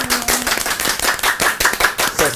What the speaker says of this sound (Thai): ขอเสียงปรบมือให้กับน้องๆด้วยนะครับ